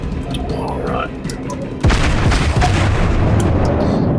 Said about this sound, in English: Now I'm firing HEs at him.